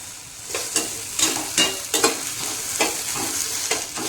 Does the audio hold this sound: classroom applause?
no